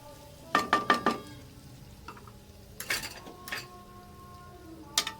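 Cooked chicken jalfrezi spooned into a serving dish, with a quick burst of scraping, clinking spoon-on-dish contacts followed by a few softer taps and a final light clink, fairly close, with no talking.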